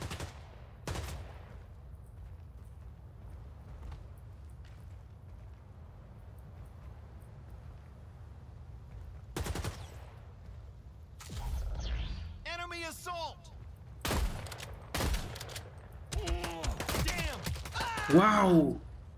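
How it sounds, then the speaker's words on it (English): Shotgun and other gunfire in the Stylet Caliber video game, with sharp, loud blasts scattered through a mostly quiet stretch, bunching into rapid shots toward the end, and with voices heard now and then. "That was a stupid shotgun."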